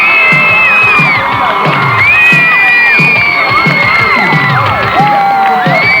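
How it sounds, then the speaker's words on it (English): A game show studio audience cheers, whoops and shouts loudly and continuously, with children's high-pitched yells rising over the crowd throughout. "Audience, cheer them on."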